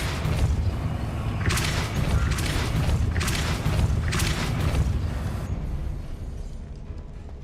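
Depulso, a push spell in the Hogwarts Legacy mobile game, lands as a run of heavy booming thumps and bursts over a low rumble, several sharp impacts a second or so apart before it fades.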